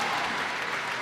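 A church congregation applauds during worship, a dense and fairly loud wash of clapping that holds steady for a short burst, with no speech over it.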